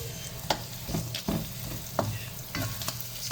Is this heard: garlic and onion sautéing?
yes